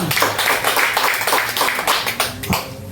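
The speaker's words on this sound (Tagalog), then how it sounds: "Isang malakas na palakpak po para sa ating Panginoon." A church congregation at a preaching service claps together, a brisk, fairly loud patter of many hands that stays steady for a few seconds with faint voices underneath.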